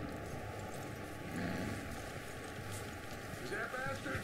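Clip-clop hoofbeats from a horse walking in Red Dead Redemption 2 sound in a steady rhythm under a constant electronic hum, with voices faintly present beneath.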